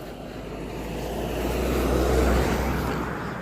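A car passes on a rural road, its tyre and engine noise swelling to a peak and then fading slightly, a broad steady whoosh heard from the roadside with no talk.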